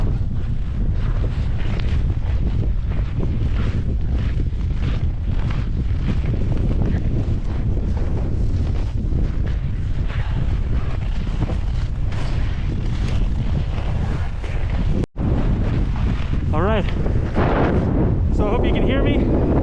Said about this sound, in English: The wind is coming straight that way, 16 knots, about 19, 20 miles an hour.